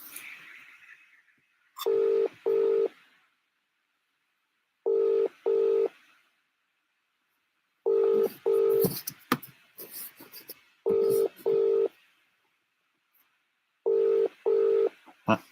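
A phone ringback tone repeating in paired bursts every few seconds, steady and clear, with some faint rustling and talk-like noise between rings.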